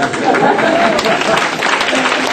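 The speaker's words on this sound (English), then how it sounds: "God, give her a clap." An audience at a youth advisors conference claps steadily throughout, a dense wash of applause with a faint voice briefly audible beneath.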